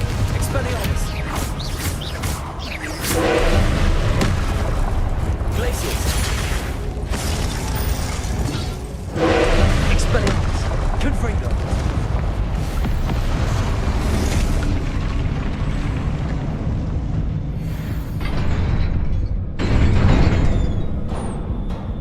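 Confringo fire spells cast in the video game Hogwarts Legacy, a series of loud bursting blasts at intervals over rumbling and clanking combat noise, with brief voices now and then.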